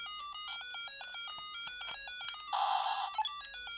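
A tank video game plays on a repaired Dendy handheld console, giving bright chiptune beeps and tones in a steady pattern, with a short, louder noisy burst near the end. The sound is faint overall.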